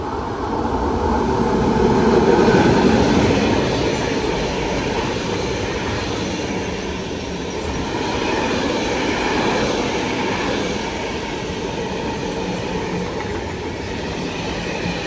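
A train rolls through Anzola Emilia station on track 2, a loud sustained rumble that swells near the start, eases, then builds again with rhythmic wheel clatter and faint squeal, no voices.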